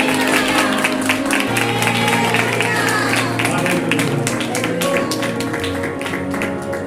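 A church congregation at a worship service claps along in a steady rhythm, the many hands blending into a loud, continuous patter over music and voices.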